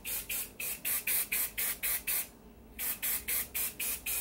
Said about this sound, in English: I'm just going to be taking my hairspray.